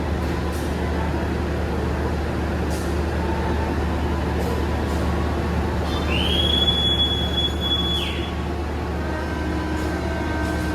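An economy KA Sri Tanjung passenger train pulls away on its route from Banyuwangi to Jogja. A steady rolling rumble is heard from inside the carriage, and a drawn-out wheel squeal rises and fades midway, with no talking.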